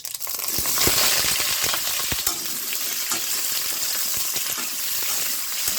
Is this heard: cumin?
yes